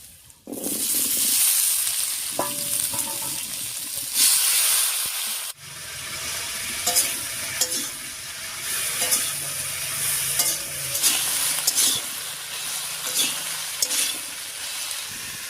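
Dheki greens and boiled potato being stir-fried over a spice tempering with browned onion, giving a continuous sizzle with rhythmic spatula knocks and scrapes against the pan.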